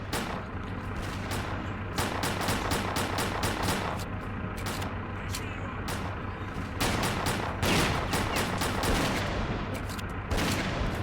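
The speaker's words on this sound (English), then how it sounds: "Like I'm firing tracer rounds." Tracer-round gunfire in S.T.A.L.K.E.R. Clear Sky, rapid bursts of loud automatic shots in repeated volleys with brief pauses, over a low steady rumble, no speech.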